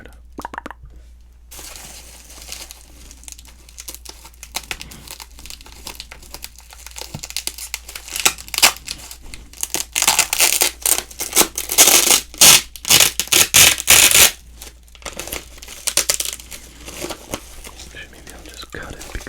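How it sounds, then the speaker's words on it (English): Tape being peeled and torn off a sealed wax box of sports cards, crinkly ripping and crackling bursts that grow louder and denser midway, close up with soft whispering around it. "first I'm going to open this, get this dang tape off"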